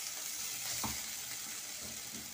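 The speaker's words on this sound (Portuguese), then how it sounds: "É só pra refogar mesmo." Cuscuz filling sautés in a pan with a soft, steady sizzle and a few faint stirring scrapes, heard alone at low volume.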